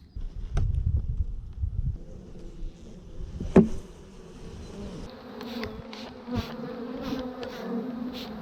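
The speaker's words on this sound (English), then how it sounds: "they just got really mad. So they started trying to buzz me really good" Agitated honeybees buzzing during a hive check about eleven days after installing package bees outdoors, the drone swelling and wavering close by with bees darting past, alongside a few handling knocks and light wind.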